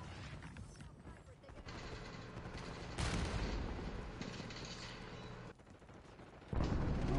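Steady automatic gunfire from Call of Duty Black Ops 6 multiplayer shooting, continuous bursts that swell louder around the middle and at the end, with a player talking over it.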